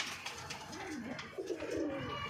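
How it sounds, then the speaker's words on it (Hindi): Pigeons cooing, including a female pigeon from Punjab, with soft rolling coos repeating several times close by against quiet background noise. "ये है पंजाब से आई हुई कबूतरी है"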